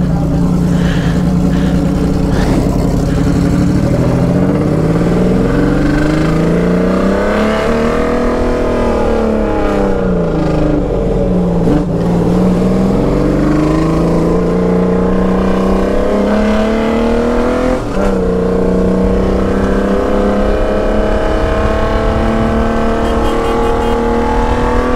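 A 1982 Honda CBX 1050 Super Sport with an Atalla 6-into-1 exhaust is ridden hard, its six-cylinder engine revving loudly and rising and falling in pitch through several accelerations and gear changes close to the listener.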